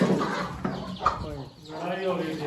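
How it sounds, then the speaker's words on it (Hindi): Two hens squabble close by in a backyard coop, with agitated clucks and squawks over a busy background while people talk nearby. "दोनों गंजी मुर्गियां आपस में बहने हैं, लड़ती हैं बहुत ज्यादा"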